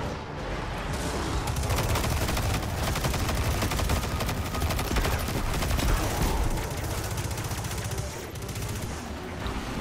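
Submachine gun fire in the shooter game Destiny 2, dense rapid bursts of automatic shots layered with other gunfire, loud and nearly continuous throughout.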